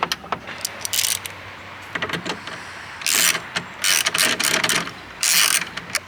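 A ratchet wrench tightens a nut on the door hinge of a 2020 Jeep Wrangler, quick rhythmic clicking bursts close by, repeated in several runs with short pauses between; no voices.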